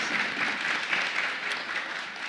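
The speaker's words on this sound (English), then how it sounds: "So please give yourselves a round of applause." A youth parliamentary debate audience gives a steady round of applause, dense clapping from many hands filling the room evenly from start to finish.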